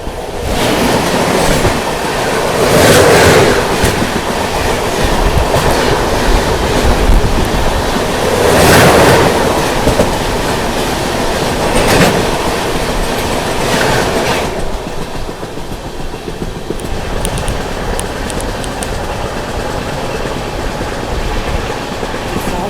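The 12295 SMVV–Danapur Sanghamitra Superfast Express rushes past in heavy monsoon rain, a loud, continuous roar of wheels and coaches with rhythmic clatter surging at intervals, easing toward the end as rain noise remains.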